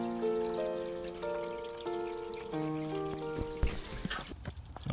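Water from a hose running over the roof and door of a Toyota FJ Cruiser during a roof leak check, a steady pouring wash with splashing, close by and without talk.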